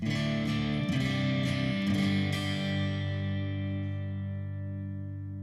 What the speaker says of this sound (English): Let's go to a Princeton Reverb.